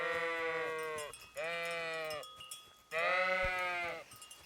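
Sheep in the video game Kingdom Come Deliverance bleat three times in a row, clear and close, with short pauses between calls and no talk.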